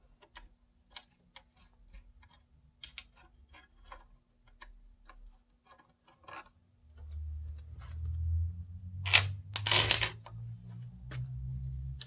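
Light metallic ticks and clicks from a tool working the four stem bolts loose on a drop-bar bike's handlebar, sparse and close, followed by a low rumble and a couple of louder scraping bursts.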